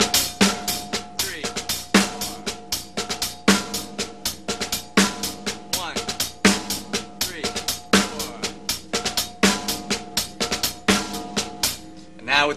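Steady slow drum-kit beat with drag ghost strokes, soft double taps between crisp backbeat hits and constant cymbal wash, played alone at an even, moderate tempo.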